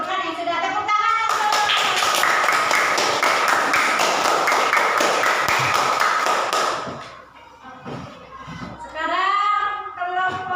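Many children clap together in a classroom, a loud dense burst of hand claps lasting several seconds before fading into children's chatter and voices.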